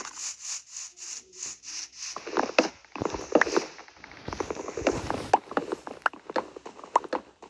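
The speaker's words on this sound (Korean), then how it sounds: "나무를 몇 개만 캐면 되거든요." Repeated blocky rubbing and knocking strikes from chopping trees in the video game Minecraft, quick and irregular, close and moderately loud.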